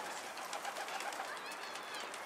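Birds, likely pigeons, in a coop, heard as a steady, fairly faint mix of cooing and chatter with soft rustling throughout.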